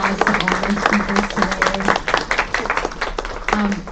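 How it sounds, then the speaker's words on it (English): Audience applause for the speakers closing day one of a UCSB mini-conference, a steady dense patter of clapping with a voice briefly heard over it. "big round of applause to all our speakers"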